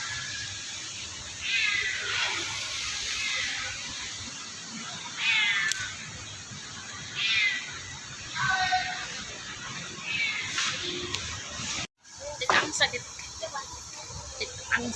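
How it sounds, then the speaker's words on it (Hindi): An injured cat meows repeatedly outdoors on a morning walk in Indonesia, several plaintive drawn-out cries a second or two apart, close and fairly loud, with people talking nearby. "बिल्ली बेचारे को ना चोट लगी हुई थी"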